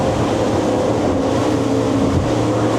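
A Grady White 386 Canyon boat driven offshore by triple 450hp Yamaha outboards roars at rising revs, a steady loud low engine drone mixed with rushing water and hull noise through waves.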